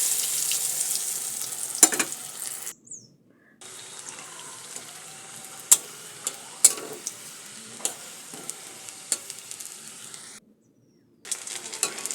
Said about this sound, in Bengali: আর এটা কিন্তু এই উল্টে পাল্টেই কিন্তু ভেজে নিতে হবে।